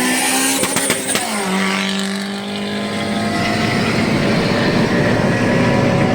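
A turbocharged Honda Civic engine revs hard and climbs through the gears, loud and close, its rising whine sustained throughout.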